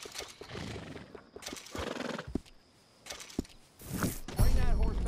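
Horse in the video game Red Dead Redemption 2, with hooves clip-clopping and a loud neigh near the end, mixed with other game sounds.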